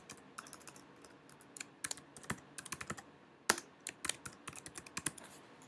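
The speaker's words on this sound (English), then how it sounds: "We're going to type his name," Quiet, close typing on a computer keyboard, with irregular clusters of light key clicks and a few sharper taps over about six seconds, no talking.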